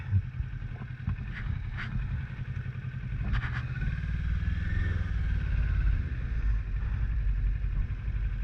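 A motorcycle makes a slow U-turn on a road, its engine giving a low, steady rumble that swells slightly, with a few faint clicks and clatters nearby.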